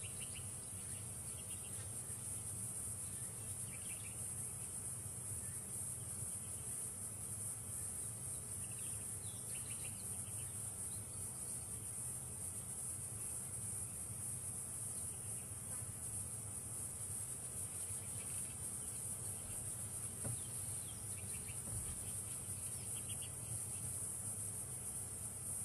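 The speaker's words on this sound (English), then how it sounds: "You can hear the bird sounds and the wind blowing." Steady wind noise washes over the African bush with a dense chorus of insects and faint, scattered bird calls, continuous and fairly quiet throughout.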